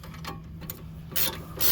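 A ratchet turning a 3/4 socket on the big bolts of a brake caliper on a Ford SUV, giving a few quick clicking bursts with short pauses between strokes.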